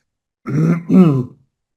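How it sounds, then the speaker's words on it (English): Two short, rough throat-clearing coughs in quick succession, close and fairly loud, with nothing else around them. "I'm coughing a little bit"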